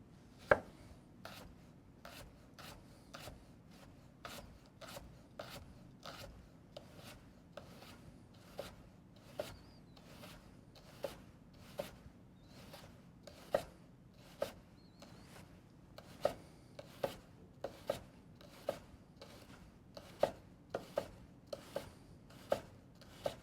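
Knife slicing a red onion paper thin on a cutting board for a watermelon and feta salad, with about thirty crisp, evenly spaced chops over a soft rubbing background and no talk.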